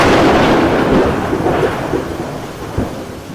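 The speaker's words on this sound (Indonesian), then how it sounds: "petir menyambar pamannya dan membuatnya meninggal seketika." Thunder from a lightning strike, a loud close rumbling crash that swells and slowly decays over a few seconds, with a rain-like wash underneath and a final crack near the end, no voices.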